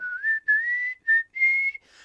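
A person whistles an imitation of Proto Man's signature whistle from the Mega Man video game: a short melodic phrase of about five clear, sustained notes, close and alone.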